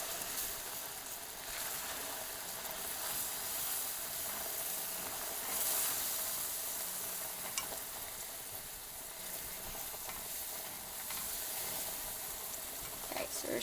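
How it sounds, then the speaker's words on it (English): Whipping cream poured into hot caramel sauce, a steady bright sizzling hiss with bubbling that swells and eases over several seconds, moderately loud and continuous with no talk. "at this point, we are going to add our 3/4 cup of whipping cream"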